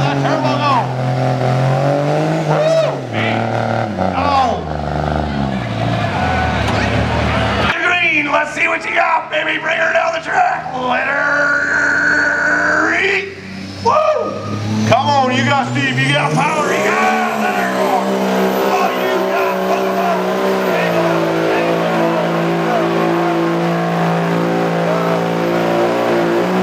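A pulling truck's turbocharged engine roars and revs hard at a truck pull competition, loud and sustained with rising pitch sweeps, while a voice yells excitedly over it.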